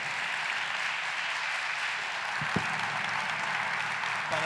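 An audience at an international congress on education and inclusion applauds steadily, a dense, even wash of clapping from a fairly distant crowd with a couple of brief knocks near the middle.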